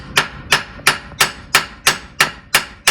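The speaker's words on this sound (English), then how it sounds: "you're going to get a hammer and start hitting in this flat area until it drops" A hammer strikes the flat area of a Jeep JL/JT steering knuckle to free the ball joint: nine sharp metallic blows at a steady, even rhythm, loud and close, with no talking.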